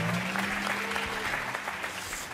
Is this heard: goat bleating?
no